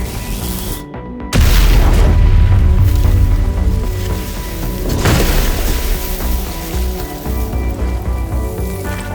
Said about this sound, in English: a fire pump controller designed to NFPA 20 standards, experiencing a real 14-calorie arc flash.